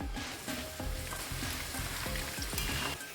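Peanuts and crushed garlic with skins on frying in oil for a crispy Kerala-style snack mixture, a steady close sizzle with repeated scraping strokes of stirring throughout and no talking.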